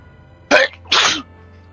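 Two sharp sneezes in quick succession, loud and close, each a short explosive burst separated by a brief pause, alone with no talk.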